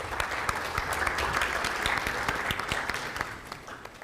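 Audience at a fintech summit claps for a panelist walking onto the stage, a steady, fairly close burst of many hands that tapers off toward the end.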